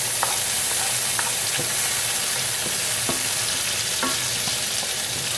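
Chopped carrot sizzles in melted butter in a hot pan, a dense continuous frying hiss with occasional small scrapes of stirring, close and steady with no voices.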